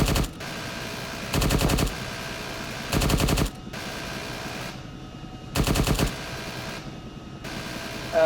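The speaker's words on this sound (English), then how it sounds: "Mr. Ramp Gunner, you can do some longer bursts, don't you?" A helicopter ramp gunner's machine gun in ArmA 3 crew training fires four loud, sharp rapid-fire bursts, each about half a second, separated by pauses over a steady engine drone.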